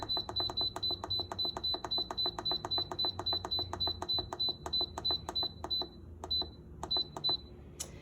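Instant Pot pressure cooker control buttons pressed in a rapid run of short, bright, evenly spaced beeps, then a few slower separate beeps, close and clear with no talk.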